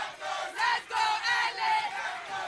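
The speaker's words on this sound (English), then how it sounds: "We hear the fans yelling out here." Fans at a flag football playoff game yell and cheer in loud, surging waves, with several rising bursts of crowd shouting close together and no clear talk.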